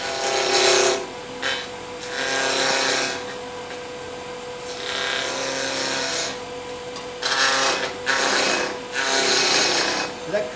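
A lathe chisel cuts into spinning wood while a bat shape is turned, giving loud rasping, scraping bursts close by that swell and fade in uneven passes over a constant motor hum.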